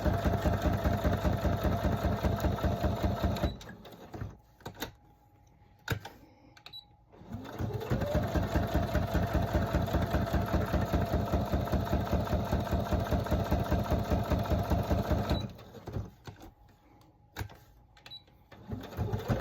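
A sewing machine stitches through playing cards and plastic in fast, steady runs with a heavy rhythmic thump, pausing twice with clicks and handling noises before starting again.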